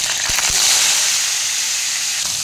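Sweet potato, carrot, drumstick and peas sizzling in a pan of oil for sambar, a steady bright frying hiss with a couple of sharp pops near the start.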